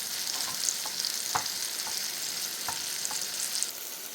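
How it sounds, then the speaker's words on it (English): Steady, busy sizzling of chickpea tofu frying in a hot pan over medium-high heat, with occasional soft clicks and scrapes of stirring; no voices. "Frying up nicely, smells nutty."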